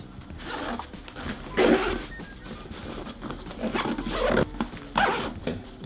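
A drone backpack zipper is drawn open in a few quick rasping pulls, close and fairly loud, with short pauses between strokes.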